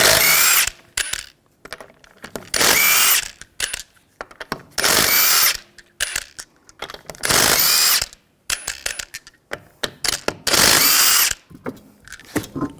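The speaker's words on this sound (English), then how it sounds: "We're going to remove the wheel, use a 19mm socket, take the lug nuts off." A power tool with a 19mm socket zips lug nuts off the rear wheel of a 2003-2008 Subaru Forester in about six loud, close ratcheting bursts separated by short quiet gaps, with no speech.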